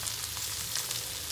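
Mixed vegetables fry in a hot kadai for a five-dal masala khichdi, giving a steady, close, even sizzle and hiss that holds without a break, with no voices.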